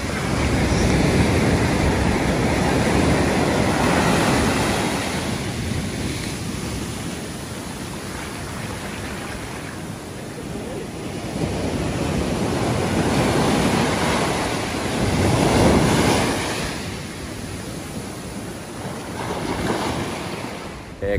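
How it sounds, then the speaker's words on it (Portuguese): Strong waves at high tide roll onto the sand at Praia do Éden beach in Guarujá, São Paulo, a loud continuous surf wash that swells and recedes in broad surges, with heavy wind buffeting the microphone. "as ondas estão mais fortes e a maré tá mais alta."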